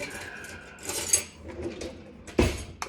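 A spoon is handled while Lao papaya salad is prepared, giving a few light metallic clinks and scrapes close by, with one sharper clatter near the end.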